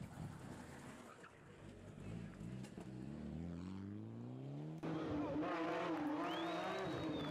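A Porsche 997 rally car on a stage of the 2018 Rallye Villa de Santa Brígida, its engine climbing through rising revs in repeated sweeps, then surging louder and closer with a high whine toward the end.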